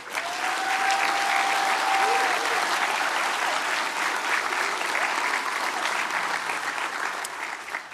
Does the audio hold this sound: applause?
yes